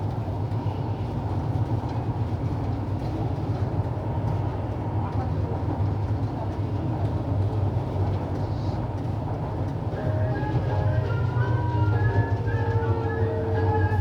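A driverless subway train runs along its rails, a continuous loud low rumble and rattle from inside the car, with faint tonal whines rising toward the end.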